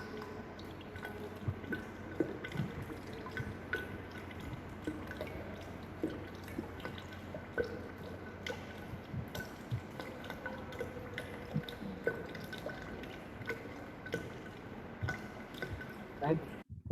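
Water drips and trickles into a container being filled to one liter during a calorific value test of a gaseous fuel, with faint, irregular drips and splashes over a steady background hum and occasional talk.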